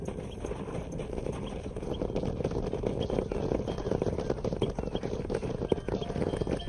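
Horse hooves clip-clop steadily through a cattle drive in the Red Dead Redemption video game, a continuous rhythmic clatter of hoofbeats over a dense low rumble of moving livestock, with occasional voices in the mix.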